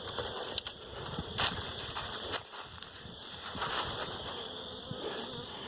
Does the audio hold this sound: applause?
no